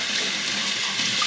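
Tap water runs in a strong, steady hiss while aquarium filter sponge media is rinsed under it, a close, continuous splashing with no voices.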